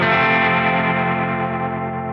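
An electric guitar chord rings through a tremolo effect with the depth turned up, its volume pulsing rapidly and evenly as the note slowly decays, in a reverberant, spaghetti western style tone.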